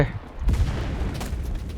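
A sudden grenade explosion in the video game Enlisted bursts out, followed by a rumbling wash of gunfire and battle noise.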